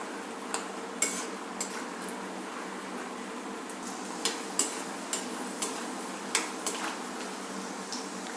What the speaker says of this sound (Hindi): सबसे पहले मैं मूँगफली को फ्राई कर रहा हूँ।